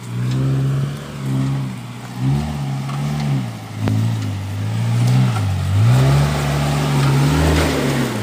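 Suzuki Jimny engine labors up an off-road trail, its note rising and falling in repeated surges as the throttle is worked, close and fairly loud with no talk over it.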